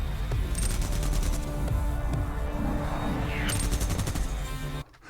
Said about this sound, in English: how are you able to sleep through that gunfire?